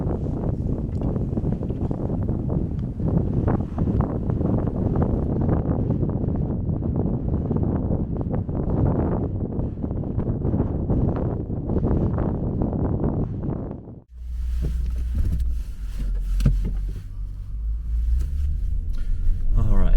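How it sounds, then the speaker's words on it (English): Strong wind in New Mexico buffets the microphone in a loud, continuous low roar, shifting abruptly partway through to a deeper rumbling gust. "It is extremely windy, as you can tell."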